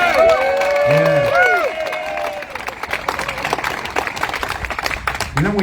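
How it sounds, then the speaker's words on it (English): A crowd at a golden spike ceremony bursts into applause and cheering, loud clapping at first that thins into scattered claps and murmuring voices. "We have got to give him one more round of applause."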